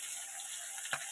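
Raw green chillies dropped into hot frying oil give a faint, steady sizzling hiss, with one short crackling burst near the end.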